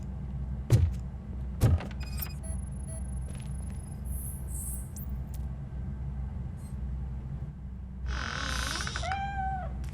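A cat in RoboCop: Rogue City giving a short, faint meow near the end, preceded by a couple of sharp thumps and quiet high tones over a low ambient hum.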